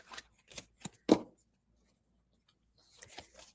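Tarot cards riffled and shuffled close by in quick, crisp bursts, a short pause, then another flurry of shuffling.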